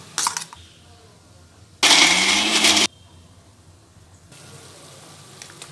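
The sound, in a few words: mixer grinder grinding roasted masala with turmeric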